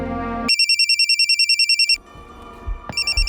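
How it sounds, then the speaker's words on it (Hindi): A mobile phone rings indoors, giving a loud, close, pulsing electronic tone that repeats steadily, cuts off, then starts up again after a brief pause amid low room noise. "पंकज का फ़ोन है।"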